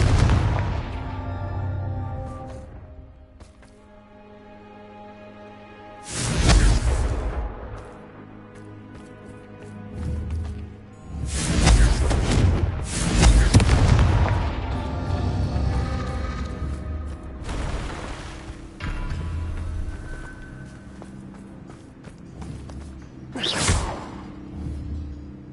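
Fiery Confringo spell blasts from Hogwarts Legacy erupt in several loud whooshing bursts, and softer magical tones and rumbles carry on between them.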